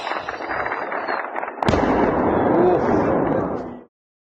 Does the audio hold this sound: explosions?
yes